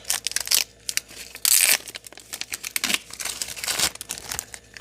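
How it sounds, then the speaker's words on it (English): Plastic wrap being torn off a brand-new sealed refrigerator water filter box, loud, close crinkling and tearing in bursts, with a sharp rip partway through. "So we gotta take this plastic off first."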